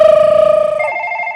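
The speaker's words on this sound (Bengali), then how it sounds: "এই ফোন এসছে, ফোন ফোন ফোন এসছে" A telephone rings with a bright electronic trill, its tone shifting partway through the short burst, loud and close with no talk over it.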